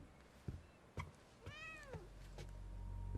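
A cat in the video game The Medium lets out a single clear, drawn-out meow midway through, with a few soft thuds before it and a low ambient hum underneath.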